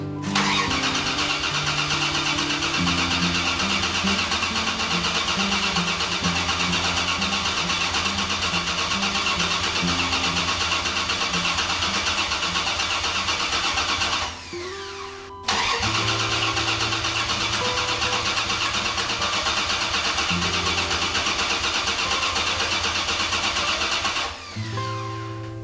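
Dodge Dakota pickup engine, undergoing a tune-up, runs loud and steady for long stretches, its even mechanical roar dropping out briefly twice as the engine catches again, with no voices over it.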